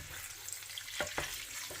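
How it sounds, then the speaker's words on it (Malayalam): Cornflour slurry poured into chilly chicken frying in a pan, with a steady sizzle and two brief splashy bursts as the liquid hits the hot oil, close and fairly soft, with no voices. "ഇതിനകത്തേക്ക് കോൺഫ്ലവർ സ്ലറി ഒഴിക്കാണ്"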